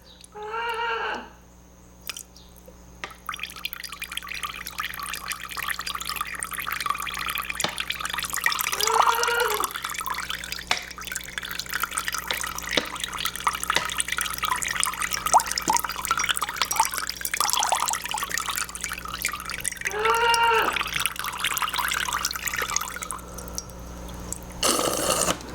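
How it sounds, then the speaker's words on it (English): Saline solution from a neti pot trickles and gurgles through the nose during a sinus rinse, a steady wet dripping and bubbling up close that lasts throughout, with a few brief throaty sounds. "Let it drip in first."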